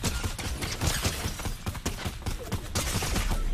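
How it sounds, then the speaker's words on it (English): Rapid volleys of grenade-launcher fire and explosions in a multiplayer video game, dense, loud, overlapping bursts filling the whole stretch with no pause. "Oh, grenade launcher."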